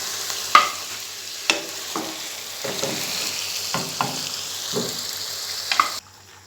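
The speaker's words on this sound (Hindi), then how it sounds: "प्याज डालकर इसे मिक्स करेंगे और थोड़ा सा पिंक होने तक इसे फ्राई करेंगे" Sliced onions fry in a pan while being stirred for chicken angara, with a constant close sizzle broken by regular scraping strokes of a spatula about once a second, no voices.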